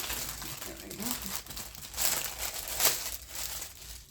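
Plastic packaging crinkles and rustles as junk journal supplies are pulled out, in uneven bursts with a couple of louder crackles, while a voice talks quietly underneath.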